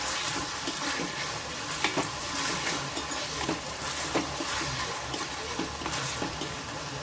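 Chopped onions and soaked moong dal sautéing in a pan, a steady close sizzle with scattered scraping stir strokes and no talking.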